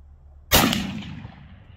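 A Traditions Deer Hunter percussion cap muzzleloader fires one sharp, loud shot that booms and then decays slowly, after a quiet moment.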